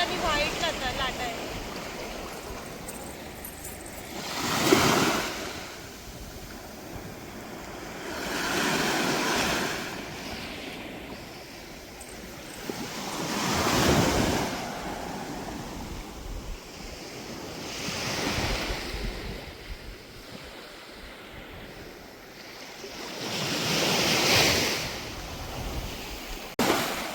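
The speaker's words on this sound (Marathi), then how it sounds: "खूप छान लाटा आणि व्हाईट लाटा आहे." Ocean waves breaking on Diveagar beach, with roughly five slow surges swelling and crashing at regular intervals over a steady wash of surf and wind buffeting.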